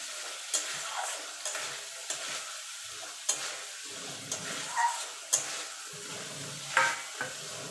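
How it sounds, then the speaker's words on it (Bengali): Pointed gourd pieces being stirred into spice paste frying in oil, with a steady soft sizzle and repeated scraping clatters of the spoon against the pan, close and moderately quiet. "এবার পটলটা দিয়ে দেবো, দিয়ে ভালো করে মিশিয়ে নেব।"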